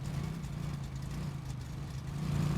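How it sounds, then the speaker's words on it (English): In a garage roleplay video game, a car engine hums quietly at low pitch, a steady soft drone that swells slightly toward the end, with no talking. "there's a bit of traffic driving around."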